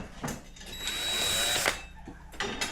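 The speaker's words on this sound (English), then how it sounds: "we brought out some more power tools. We got the drills, we got the impact driver." Power drill taking bookshelf brackets off a wall in a living room: one sustained whirring burst in the middle, bracketed by short clicks and clatter from handling the tool.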